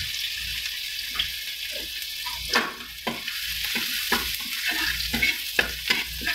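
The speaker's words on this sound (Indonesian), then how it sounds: "Lanjut tumis bawang putihnya ya." Garlic stir-frying in a hot pan for a mushroom, egg and bell pepper dish, a steady close sizzle broken by repeated scraping spatula strokes, with no talking.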